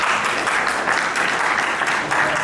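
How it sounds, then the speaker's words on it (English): Audience applause at a leadership event, a steady dense patter of many hands clapping at close range for a couple of seconds, with no voices standing out. "Give DeVante a good round of applause for being here."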